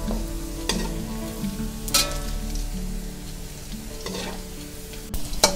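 Pork fries in hot oil in the Nakhon Si Thammarat manner, a dense, constant sizzle and crackle close by, broken now and then by stirring scrapes.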